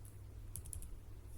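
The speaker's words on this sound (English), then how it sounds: "we have to hit Windows plus R on our keyboard and then type" Quiet typing on a computer keyboard, a short run of a few light key presses over a steady low hum, with no talking.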